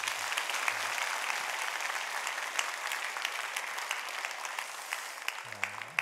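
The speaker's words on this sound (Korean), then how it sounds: "여러분 큰 박수 한번 해주시면 고맙겠습니다." A church congregation claps together in a steady, sustained round of applause during a worship service, moderately loud and evenly spread, with a faint voice surfacing briefly near the start and end.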